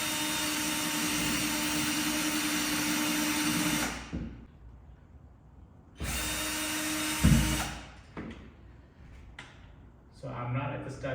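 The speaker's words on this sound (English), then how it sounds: "you can go ahead and drill a hole in place" A power drill whirs loudly for several seconds drilling a hole in a garage wall, stops, then bursts again briefly, followed by quieter handling noises and clatter.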